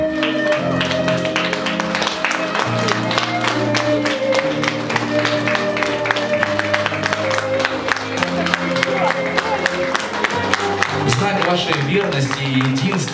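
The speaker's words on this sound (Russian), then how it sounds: "под громкие и бурные овации всех присутствующих гостей" Wedding guests in a restaurant banquet hall give a long, lively ovation of steady, dense clapping over loud music, with crowd noise and occasional whoops throughout.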